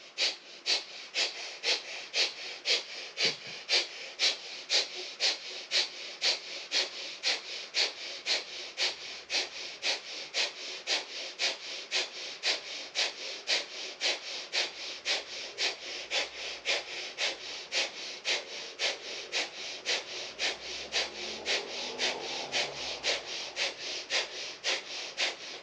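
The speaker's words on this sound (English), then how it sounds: "And you're going to do breath of fire here." Rapid kundalini breath of fire: steady, fast rhythmic nasal exhalations, roughly two per second, close and clear, continuing evenly for the whole stretch with no talking.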